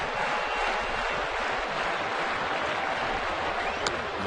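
A crowd at a baseball stadium during an Orioles–Indians game makes a broad, sustained roar of cheering and applause, distant and steady, with no clear individual voices.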